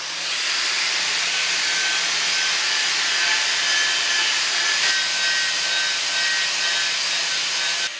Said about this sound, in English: I've got the wire cup wheel on the grinder just to get the finest rust off around the top of the wheels